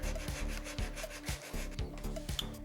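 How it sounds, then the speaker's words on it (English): Wood being sanded by hand, a near, steady rasping rub in repeated back-and-forth strokes with short pauses between passes, with no talking. "Give a little sandy sand here."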